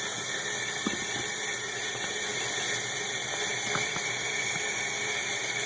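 Steady running tap water streams over art brush bristles being rinsed clean down to the ferrule, a constant close hiss with a few small splashes and clicks.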